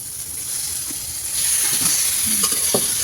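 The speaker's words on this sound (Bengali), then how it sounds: "এবার আমি এই লিভার আর স্টমাকটা দিয়ে দেবো" Chicken liver and stomach dropped into a hot pan of cooking masala, a hissing sizzle that swells louder midway and keeps going, with faint stirring clinks and no talking.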